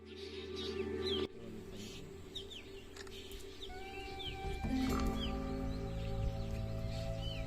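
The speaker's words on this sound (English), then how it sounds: "The chirping of the birds are the only sound in the nature now" Birds chirp in Ranthambore forest, with several high, tweeting calls and short whistles over a low, steady rumble, plus a clucking, rooster-like call partway through.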